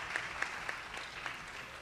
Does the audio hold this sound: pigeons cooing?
no